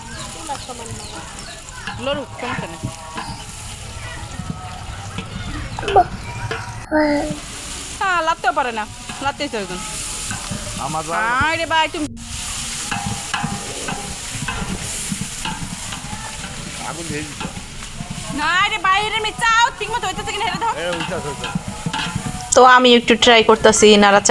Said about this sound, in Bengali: এই যে ভাবি নাড়াচাড়া করতেছে আর খুব ধোয়া হইতাছে